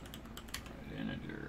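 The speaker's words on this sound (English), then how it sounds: "So I'll type it all out again." Computer keyboard typing, a rapid cluster of light key clicks followed by a few softer taps, quiet and close, with a faint low voice underneath.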